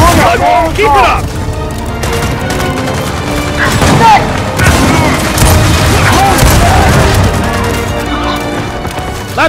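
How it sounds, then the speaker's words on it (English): Gunfire, impacts and a frag grenade blast in the video game Gears of War 4 merge into a loud, dense barrage of booms, splintering crashes and rattling shots, with shouted voices underneath. "Incoming frag!"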